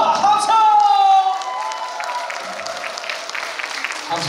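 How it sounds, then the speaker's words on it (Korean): Audience applause and cheering at an album launch celebration and showcase, starting with a bright whoop and a burst of clapping, then settling into sustained, moderately loud crowd clapping. "다시 한번 두 분께 힘찬 박수와 합창!"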